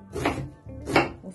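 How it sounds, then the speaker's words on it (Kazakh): A knife chops meat, onion, pepper, dill and sheep tail fat finely on a board for a Kazakh rolled bread filling. Two clear bursts of cutting come close by with a short pause between them, and there is no talk. "Осыларды ұсақтап турап аламыз."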